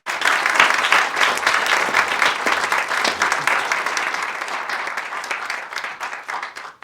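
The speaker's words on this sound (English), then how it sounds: "I would just like a round of applause if we could for them." A sustained round of audience applause for the interns, a dense, loud patter of many hands that keeps steady for several seconds before tapering off at the end.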